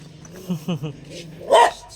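A dog gives several short, close barks and yips, ending in one louder bark, alongside a nearby voice.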